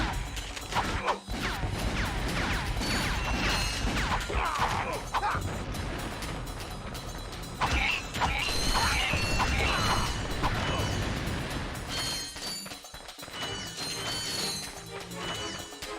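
Bolt pickups and mechanical clanks from the PS2 game Ratchet & Clank, a dense run of metallic clinks and crashes that fills the whole stretch with game sound and no talk.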